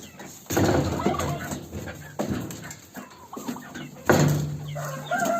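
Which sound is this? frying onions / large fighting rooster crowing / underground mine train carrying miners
large fighting rooster crowing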